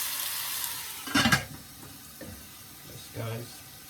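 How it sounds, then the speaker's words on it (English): Soft sizzle of curry chicken frying in a pot, broken by a loud clatter of a lid or utensil, then a short voice near the end. "let's see how it's looking now as it's frying up"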